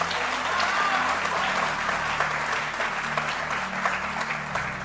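Audience applause from a seated studio crowd at a televised debate show, steady dense clapping that carries evenly through the whole stretch without a break, fairly loud and close.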